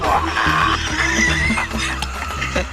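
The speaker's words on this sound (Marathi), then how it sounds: "घोडा" A horse whinnies amid a busy, loud scene with music and background noise running throughout.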